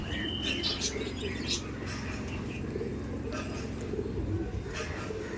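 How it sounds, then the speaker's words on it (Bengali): Aggressive pigeons coo in a low, rolling murmur with occasional sharper chirps, close by, while faint voices sound in the background. "প্রচুর অ্যাগ্রেসিভ পায়রা"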